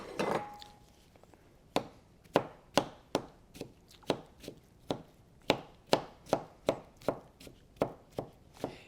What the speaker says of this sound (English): you can chop these up a little more if you like